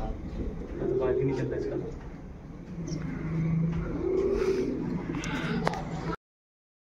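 Pigeons cooing nearby at a rooftop pigeon-flying contest, soft throaty coos rising and falling in a few bouts while someone talks over them.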